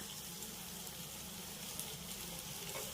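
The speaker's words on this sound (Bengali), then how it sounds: "এবার আমি পেঁয়াজ রসুন আর কারি পাতাটাকে এই ফোড়নের সঙ্গে হালকা করে একটু ভেজে নেব" Chopped onion, garlic and curry leaves fry in a spiced oil tempering, giving a steady, faint, continuous sizzle with no voices over it.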